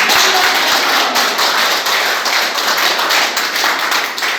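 An audience claps in a dense, loud, continuous round of applause, with many overlapping hand claps and a few sharper individual slaps near the start.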